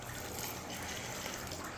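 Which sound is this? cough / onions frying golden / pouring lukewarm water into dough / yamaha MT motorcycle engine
pouring lukewarm water into dough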